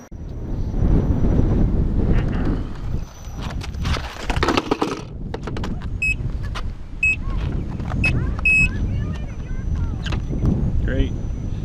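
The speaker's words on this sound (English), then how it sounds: "we got some gusty winds going on here" Gusty outdoor wind buffets the microphone in low rumbling surges that swell and fade unevenly, loud and close, with people talking over it and a few sharp beeps near the middle.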